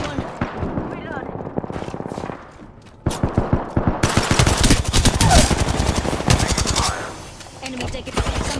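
Rapid automatic gunfire bursts rattle in the video game Apex Legends, loud, close strings of shots broken by a short lull, then a denser volley.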